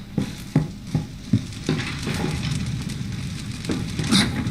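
A fire crackles and roars in a barn in the horror video game Resident Evil 7. Sharp crackling pops come first, then a steady, loud rushing burn.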